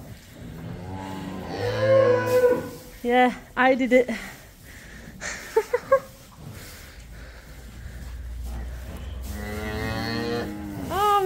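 A cow in a lambing shed moos several times, loud and close, with deep drawn-out calls spread across the clip, while a person talks excitedly between and over them.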